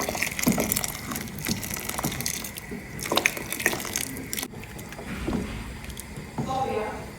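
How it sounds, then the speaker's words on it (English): Water from a kettle is poured into a pot of jollof rice, with splashing, bubbling liquid and clattering kitchen handling sounds in a steady, busy stretch. "Water from my kettle in the jollof"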